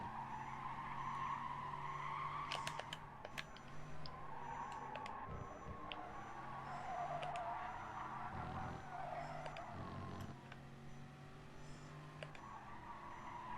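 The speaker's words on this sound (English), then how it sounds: "Where'd you go for the drifts on this? Is it a part of the game that I'm not aware of?" Tyres squeal and skid through corners in the GT Sport racing game, with a car engine droning steadily under the screech at moderate, constant loudness.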